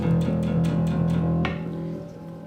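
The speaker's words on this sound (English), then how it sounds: "a neck pickup, sounds like this" A bass guitar played through its Thunderbird-style neck pickup: warm, round low notes in a repeated picked pattern, ringing out alone before fading at the end.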